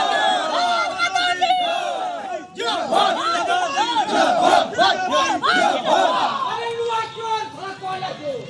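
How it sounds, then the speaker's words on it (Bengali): An angry crowd gathered outside a police station in Pingla chants 'thief' slogans, a loud, rhythmic mass of shouting voices in unison with overlapping cries. "থানার সামনে ডিম হাতে চোর স্লোগান"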